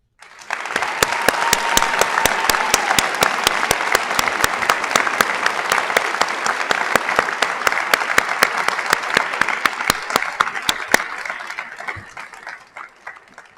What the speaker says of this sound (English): giving you one more round of applause for the very inspiring class that you are